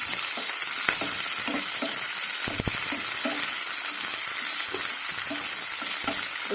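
Broad beans frying in a pan, a steady loud sizzle with repeated scraping and clinking of a spatula stirring through them, no speech.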